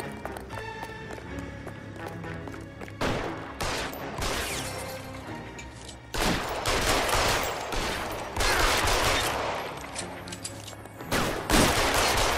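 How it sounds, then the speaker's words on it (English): Bursts of gunfire in the detective video game L.A. Noire during an alley chase, with repeated loud volleys and rapid shots from about three seconds on, mixed with game noise and brief shouted voices. "Guns."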